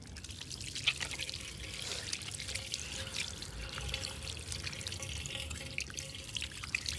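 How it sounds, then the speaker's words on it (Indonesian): Hands being rinsed under running water during a family-care handwashing demonstration: a steady, moderately close wash of water with small splashes and drips, continuing evenly without talk. "Bilas kedua telapak tangan dengan air."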